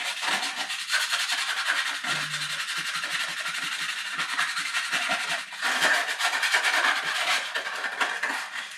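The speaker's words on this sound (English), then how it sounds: "So I just got some super fine sanding paper." Steady, rhythmic rasping strokes of fine 180-grit sandpaper lightly rubbing soot off a Land Rover exhaust manifold, continuous and close, with a brief low hum partway through.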